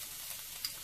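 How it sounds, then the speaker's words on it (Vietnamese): Minced garlic frying in hot annatto oil that has just turned golden, a steady close crackling sizzle with one brief sharper pop near the end. "Dầu hạt điều đã vàng lên thì mình bỏ tỏi vào"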